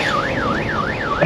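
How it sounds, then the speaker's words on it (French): A fire-engine siren fitted to a truck wails in steady up-and-down sweeps, about four full cycles, loud and close with no voices over it. "C'est tous les sirènes de pompiers et"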